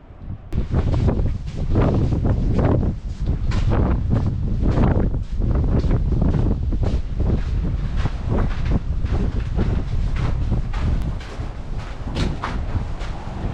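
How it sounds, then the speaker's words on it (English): Strong, continuous wind near a bridge over the Colorado River in the Grand Canyon roars and buffets the microphone throughout, loud and gusty with low rumbling bursts and no clear talk. "It's so windy."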